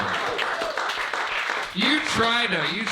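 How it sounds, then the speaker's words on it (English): A comedy club crowd applauds comedian Char Ramtin at a stand-up competition, a dense wash of clapping that gives way within a couple of seconds to someone speaking. "One more round of applause for Char."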